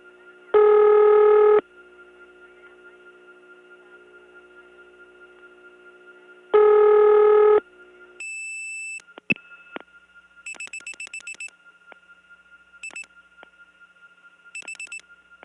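Signalling tones from a 1979 step-by-step tandem telephone exchange in Gainesville, Georgia: two long buzzing tones, then clicks and short bursts of high electronic beeps from the switching equipment.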